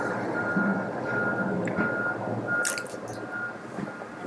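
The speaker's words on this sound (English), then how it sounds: "the garbage trucks have to come" Garbage truck backing up outside, its reversing beeps repeating faintly and evenly at a distance over low engine rumble, with a few brief clinks near the end.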